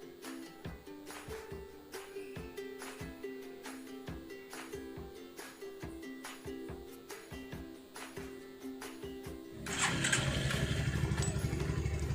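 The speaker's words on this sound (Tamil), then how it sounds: "பார்த்தீங்கன்னா தெரியும் வண்டி இப்போ வந்து ஸ்டார்ட் ஆகிடுச்சு" A Bajaj Pulsar 150 motorcycle that has been slow at low speed, after a CDI unit change, runs with a steady rhythmic engine chug, then gets louder and rougher near the end, with no talk.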